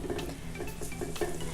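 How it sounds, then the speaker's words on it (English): Finely chopped white or yellow onion stirred in hot oil, a steady sizzle with spoon scrapes against the pan in a quick rhythm, close and alone. "Okay, so mix that in the oil."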